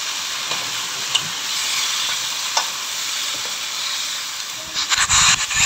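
Marinated frog meat sizzles loudly and steadily in a hot pan, a dense continuous hiss with a few sharp pops, then clattering stirring near the end.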